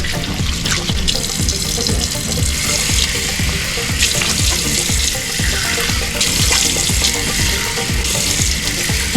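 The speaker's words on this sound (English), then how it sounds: "Time to rinse." Tap water runs into a bathroom sink with steady splashing while someone rinses their face, punctuated by irregular close wet slaps and splatters throughout.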